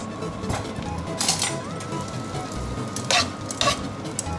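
Steady sizzling from a hot frying pan as egg is poured in and tossed for spaghetti carbonara, a utensil stirring and scraping, with occasional light metallic clinks up close.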